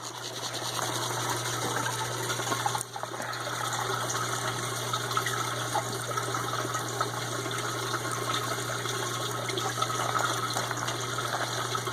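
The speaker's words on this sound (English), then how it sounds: "the water comes pretty much to the top of the tube, and it'll kind of go up, and it goes up and down as the material washes out" Water steadily washing gold concentrates through a Gold Webb tube, a continuous even rushing and gurgling flow with a low hum running underneath throughout.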